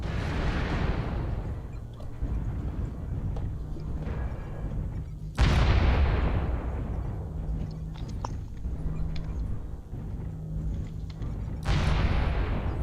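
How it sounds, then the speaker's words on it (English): Repeated missile explosions in a video game, three heavy booms spaced several seconds apart, each decaying into a long rumbling tail over constant low battle noise. "Incoming missile."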